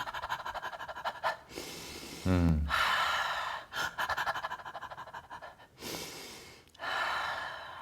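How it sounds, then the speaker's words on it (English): A person does fast panting breath work, quick rhythmic huffs close to the microphone in bursts, broken by deeper sharp inhales and long exhales. "If they did a little bit of faster breath work, some panting breaths, it looks like this."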